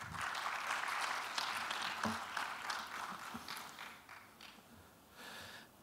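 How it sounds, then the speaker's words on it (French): Warm applause from an audience at a medical lecture on hematology, dense clapping that swells early, eases toward the end and then briefly rises again. "je vous prie de bien vouloir l'applaudir chaleureusement"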